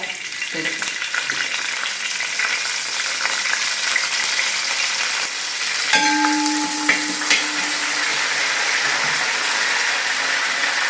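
Curry leaves fry in coconut oil, a loud continuous crackling sizzle with a few metallic scrapes and clanks from a utensil partway through.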